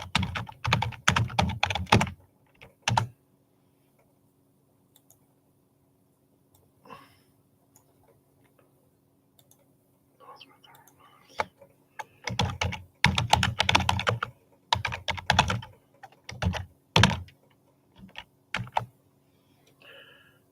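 Bursts of rapid clicking on a computer keyboard come in irregular clusters separated by quiet pauses, close and crisp, with a faint steady hum underneath and no talking.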